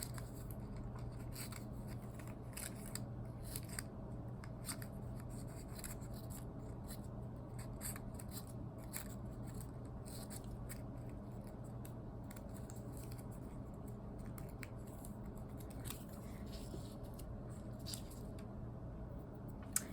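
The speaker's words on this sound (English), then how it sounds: "Or cut extra petals off." Scissors snip paper petals for a collage in a classroom, quick soft close-up cuts repeating irregularly over a faint steady hum, with no talking.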